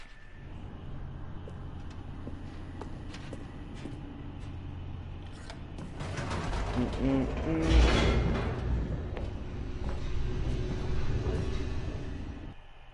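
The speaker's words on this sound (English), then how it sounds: "The elevator raced downward, plummeting towards an unknown fate" A low rumbling hum of an elevator descending in The Stanley Parable Ultra Deluxe, steady mechanical drone that swells louder midway with a whooshing rush, then settles back.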